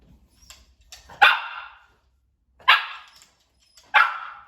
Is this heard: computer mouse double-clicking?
no